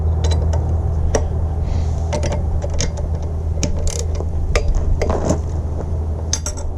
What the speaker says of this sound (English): Now I'm also going to have to unscrew all these bolts here